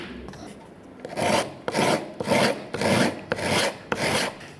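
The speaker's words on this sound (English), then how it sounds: "It does pay to run a sandpaper up there and just level them off" Sandpaper rasps back and forth over bamboo frets on a two-string bocadillo guitar, six or seven loud rhythmic strokes following a quieter start, close up with no talk.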